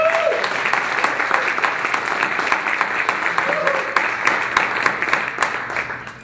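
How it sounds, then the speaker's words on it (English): Sustained applause from an audience at a Farragut Career Academy gathering, a dense wash of many clapping hands with individual claps standing out, with faint voices mixed in. "So give yourselves a round of applause."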